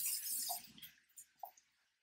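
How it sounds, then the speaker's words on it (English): Hands rinsed under a running kitchen tap while preparing salad: a close rush of water for about a second, then a few isolated drips and light splashes as the flow stops. "I'm going to rinse my hands."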